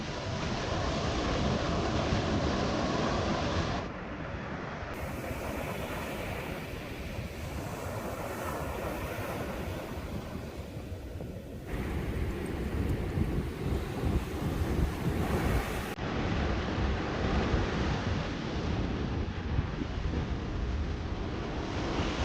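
Sea waves on a clear turquoise-water beach in Lombok wash in a steady, broad roar, heavy wind buffeting the microphone throughout with no voices.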